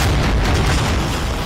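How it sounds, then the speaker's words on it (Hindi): Heavy, continuous rumbling boom from missile and shell explosions in the Russia-Ukraine war, loud and dense with deep low roar throughout, no voices. "पुतिन की मिसाइलें और पुतिन के गोले यूक्रेन को लहूलुहान कर रहे हैं।"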